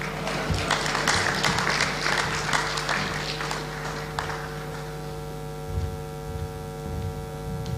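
Audience applause at a Ghana CEOs summit, dense clapping for the first five seconds over a steady mains hum, then fading out and leaving only the hum.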